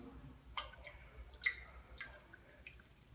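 Water drips and trickles from a Sloan automatic flush valve once its chrome top has been popped off, giving a few soft, close splats and drops over quiet background noise.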